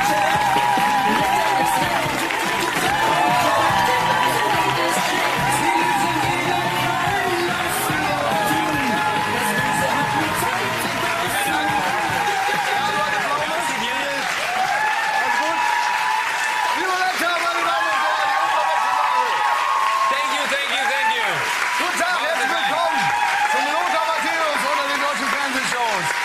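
A studio audience gives loud, sustained applause mixed with cheering and crowd noise at a German TV show, a dense clapping that continues without a break for the whole stretch and sits under a presenter's voice.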